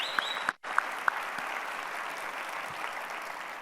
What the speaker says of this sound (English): And that deserves a huge round of applause.